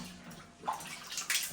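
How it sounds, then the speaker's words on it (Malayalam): Water spurts and splashes from several holes in a burst pipe, a faint, irregular gushing with a couple of louder surges over a very short stretch, with no voices. "ഇവിടെ കുറെ ഹോളുകളുണ്ട്, അതിൽ നിന്നൊക്കെ വെള്ളം വരുന്നു"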